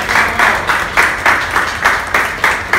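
Steady applause from a crowd, dense clapping rising in rhythmic surges, with no voices over it.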